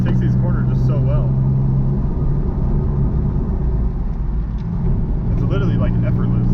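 Steady engine rumble and road noise inside a Nissan 370Z driving through corners, loud and continuous beneath someone talking for most of the stretch.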